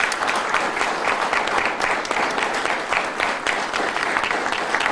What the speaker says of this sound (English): Let's give all our first responders a round of applause